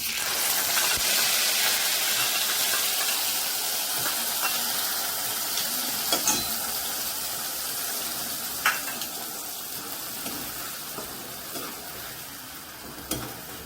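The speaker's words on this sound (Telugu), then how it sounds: "ఇప్పుడు బాండీలో నూనె వేసాను నూనె కాగుతుంది దాంట్లోకి మనం ఈ పేస్ట్ చేసుకున్నాం కదా ఆనియన్ టమాటా పేస్ట్ అది వేసుకుందాం" Onion and tomato paste sizzles in hot oil in a pan for chole bhature, a steady hissing fry close up with a few light stirring knocks, fading a little toward the end, no talking.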